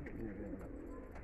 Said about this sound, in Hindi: बहुत शानदार कबूतर है, एक से एक कबूतर घूम रहा है माशाल्लाह इसके अंदर